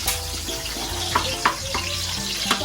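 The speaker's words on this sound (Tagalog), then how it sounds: "igigisa natin yung bawang, igigisa natin sa bawang sibuyas" Onion and garlic sauté in a hot pan with a steady, loud sizzle, punctuated by a few sharp stirring scrapes and clacks.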